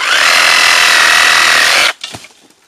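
A Parkside PSSAP 2028 reciprocating saw with its supplied wood blade cuts through a branch, a loud, steady buzzing whine for about two seconds, then stops abruptly, leaving brief clatter and a few short knocks.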